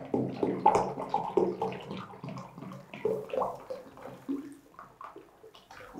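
Water glugs in uneven bursts as it is poured from a one-litre bottle into a jug, close and fairly quiet with gurgling pulses fading toward the end.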